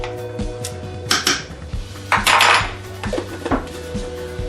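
A spoon stirs beef stew with extra garlic in a pot, several clattering scrapes and knocks of utensil against cookware in quick irregular bursts, close and moderately loud.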